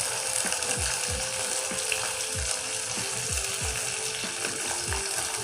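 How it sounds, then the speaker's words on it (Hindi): Nuts, raisins and sliced coconut fry in a little oil in a pan, with a steady sizzle and a regular series of low knocking thuds as the pan is stirred. "हम नट्स फ्राई करेंगे 1-2 मिनट के लिए।"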